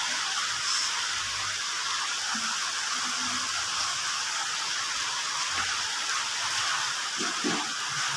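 Steady rain falls as a continuous, even hiss with no thunder, with faint low rumbles underneath and no voices.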